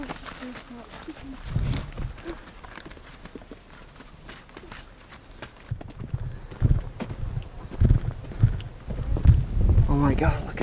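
A flock of sheep walks along a rocky dirt road into a small Peruvian town, with scattered hoof clops and shuffling that grow busier toward the end, mixed with ambient noise and occasional voices.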